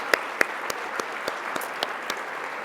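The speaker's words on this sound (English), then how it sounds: "let us give a big round of applause to the men and women who work for the Omni" An audience at an awards event claps in a steady, evenly spaced rhythm, each clap distinct against a soft background hiss rather than blending into a dense roar.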